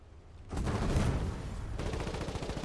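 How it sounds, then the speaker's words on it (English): Tank guns firing in a front-line video game, with a dense burst of rapid shots and explosions that starts abruptly and keeps up a loud, rattling barrage. "look at the explosions that happen when our guns hit"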